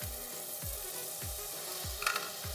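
Taro leaves fry in a pan with a quiet, even hiss, broken by regular soft thumps roughly every half second as they are turned.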